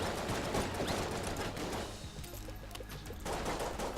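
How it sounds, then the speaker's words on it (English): Rapid gunfire from the dueling pistol in the video game Enter the Gungeon, dense overlapping shots and impacts in a fusillade that briefly thins in the middle before picking up again. "No, this is not the musket, this is the dueling pistol."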